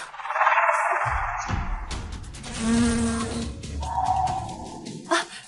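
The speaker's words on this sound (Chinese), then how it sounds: "这是马蜂" Wasps buzz in a steady, close drone that swells and fades over several seconds in a period drama scene, with other rustling sounds mixed in.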